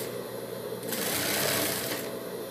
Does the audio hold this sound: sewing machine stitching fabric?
yes